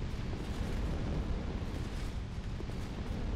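Burning enemies exploding in Dark Souls 2, a heavy rumbling eruption of fire with deep booming energy and crackle, sustained and loud for several seconds.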